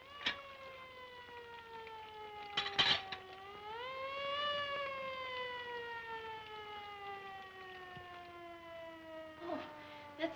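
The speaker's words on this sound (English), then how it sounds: "That siren. I hate it." A 1934 hospital ambulance siren wails continuously, rising then slowly sinking in pitch over about ten seconds, with brief knocks and bumps around it.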